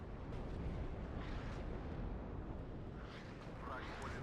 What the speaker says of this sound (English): we see his artillery now going to try and start hitting some of my tanks